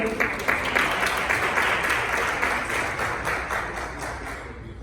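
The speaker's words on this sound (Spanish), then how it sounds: "la recibimos con un dulce aplauso también" Audience at a human rights forum applauds to welcome a woman named Dulce Almonte to the front, a dense, steady wash of clapping from many hands that holds for several seconds before easing slightly.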